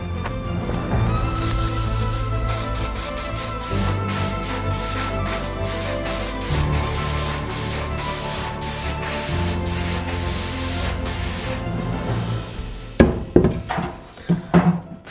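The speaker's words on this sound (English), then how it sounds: "It's like an airbrush because these spokes are super thin and I don't want to waste the primer." A spray gun fitted with a 0.4 mm nozzle hisses primer onto thin bicycle wheel spokes in a workshop, a loud steady spray lasting most of the clip with music in the background, ending in a few sharp knocks.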